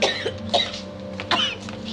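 Two harsh, throaty coughs burst out close by, one near the start and another about a second later, over a low steady background hum.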